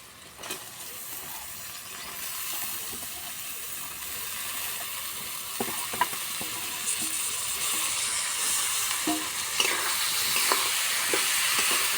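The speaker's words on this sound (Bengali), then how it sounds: "মশলার সঙ্গে ভালো করে মিশিয়ে নেব" Soaked rice stirred with spices in a pan for Bengali egg pulao, a steady gentle sizzle with scraping and clinking spoon strokes through the stretch, close and alone with no talk.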